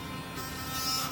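Electric toothbrush running off an 18V battery pack, its motor giving a steady, close buzz with a faint whine that holds evenly for the whole moment, alone without talk.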